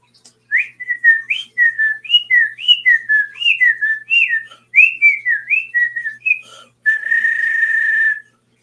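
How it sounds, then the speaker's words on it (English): Someone whistles a lilting tune close and loud, a run of quick rising and falling notes, then a short pause, more notes, and a final long steady held tone. "Can you whistle again?"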